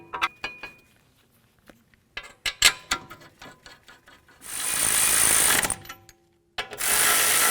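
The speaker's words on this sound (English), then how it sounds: "torque them to 80 foot-pounds" A ratchet-style torque wrench clicks rapidly in short bursts while tightening brake caliper bracket bolts on a 2007-2017 Jeep Compass. A longer loud mechanical whir follows, then a brief pause and another burst, all close by.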